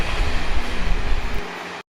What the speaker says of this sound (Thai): ขบวนเจ็ดกรุงเทพเชียงใหม่มาพอดีเลย